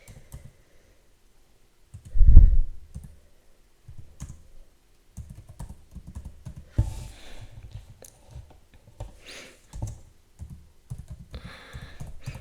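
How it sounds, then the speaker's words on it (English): A computer keyboard in a home kitchen is typed on in short, scattered bursts of light clicks, after a louder thump early on, with quiet gaps between the keystrokes. "Let me type something quickly."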